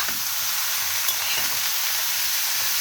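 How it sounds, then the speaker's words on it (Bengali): Grated radish being stirred into dried red chillies, five-spice and bay leaves frying in a pan, a steady broadband sizzle with occasional scraping stirs, close and continuous with no voices. "এইবার আমি মিশিয়ে দেব কোরানো মূলোগুলো"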